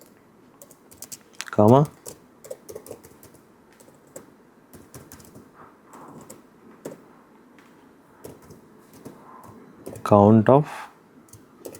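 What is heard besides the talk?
typing an SQL query on a computer keyboard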